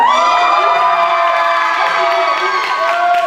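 Theatre crowd at the Miss Somme 2018 pageant in the Théâtre d'Abbeville cheering loudly, a dense sustained roar of shouting and whoops with bright tonal elements filling the hall continuously.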